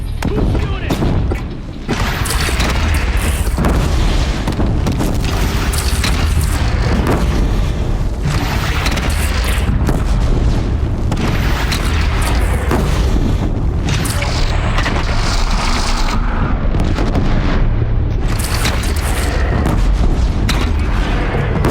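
In Horizon Zero Dawn, a bridge is shot down and explodes into a loud, dense, continuous roar of booming blasts and crashing debris that lasts the whole stretch, with voices now and then beneath the din.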